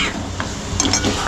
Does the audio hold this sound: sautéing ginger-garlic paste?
yes